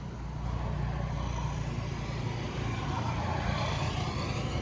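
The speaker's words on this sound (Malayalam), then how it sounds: "അതാ അല്ലേ വണ്ടി" A vehicle passes along a road in a steady broadband rush of engine and tyre noise that builds slightly toward the end, moderately distant and without voices.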